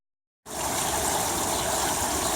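Water at Lincoln Park Zoo on a rainy day, a steady bubbling, rushing flow that starts suddenly after a moment of silence and continues loud and even.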